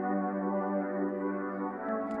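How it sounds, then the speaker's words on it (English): Synth pad built with FL Studio stock plugins for an Afro House track, a soft, sustained chord swell with rich layered harmonics that holds steady and fairly quiet throughout, with a faint high tick near the end. "now the next thing I added was a pad."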